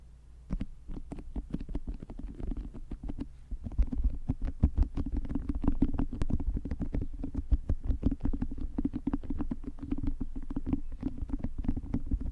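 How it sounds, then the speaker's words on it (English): Soft, squelchy crackles and irregular sticky pops of putty squished right against the microphone over a low hum, with no talking. "I really want to put this on the mic."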